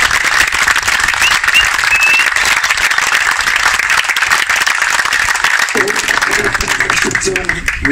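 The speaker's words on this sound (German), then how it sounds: "Ich will jetzt Applaus geben." An outdoor crowd at a motorcycle charity ride in Wolfsburg breaks into sustained, dense applause, loud and close throughout, with a voice speaking over the clapping near the end.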